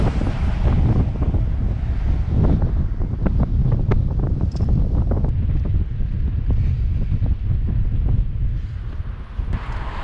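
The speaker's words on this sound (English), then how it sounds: "There's a cool wind from the ocean, so it's a little bit against me." Cool ocean wind buffets the microphone steadily along the Panamerican Highway near Paracas, a loud continuous roar with gusty low rumble and no talk throughout.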